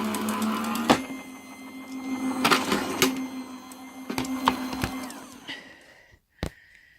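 A Gemini Junior die-cutting and embossing machine runs close by, a motor whirring steadily with clacks and mechanical knocks as the plate feeds through, then winding down to a brief final clunk and near silence.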